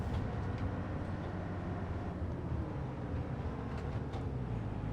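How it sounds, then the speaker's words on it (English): A tractor engine in the video game Farming Simulator 22 drones steadily and low at an even level, with a faint mechanical hum and occasional light rattles layered on top. "I love the sound of this tractor"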